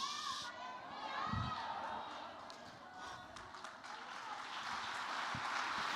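Inside a church, an audience claps in a muffled, sustained stretch of applause with a crowd murmur running underneath. The sound is fairly faint and even, holding steady throughout without clear peaks.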